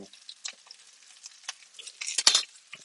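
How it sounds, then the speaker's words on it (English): Arugula stirred in a pan, producing light scraping and rustling bursts with soft sizzling, quiet between strokes and swelling to a louder scrape near the end, close up with no talk. "Give that a stir on the jus"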